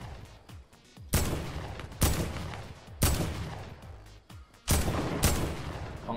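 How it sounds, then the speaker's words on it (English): Video game gunfire rings out in loud, sharp bursts, roughly five heavy shots spaced about a second apart, each trailing off into echoing decay. "Someone else is shooting."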